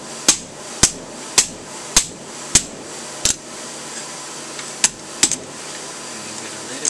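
Metal being hammered on an anvil, with about nine sharp, ringing strikes at an irregular, unhurried pace, loud and close, with no talk.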